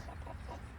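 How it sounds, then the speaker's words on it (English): A pet rooster clucks softly in a backyard flock, low throaty murmurs repeating in a short, close, quiet run with no talking. "How's my big rooster doing?"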